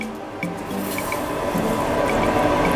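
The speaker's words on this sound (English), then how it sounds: "then you can just add a little bit of the fish stock, the one that you soaked the stockfish in" Fish stock from soaked stockfish pours into a pot of stew with a close, wet trickling and dribbling that starts with a small splash and then runs steadily, growing slightly fuller as the pour goes on.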